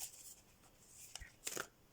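Tarot cards are shuffled quietly in a couple of brief papery riffles that come after a faint, soft rustle.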